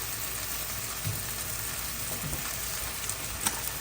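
Okra and onions fry in a pan with a constant, moderately loud sizzling hiss, broken by a few soft stirring knocks, with no talk.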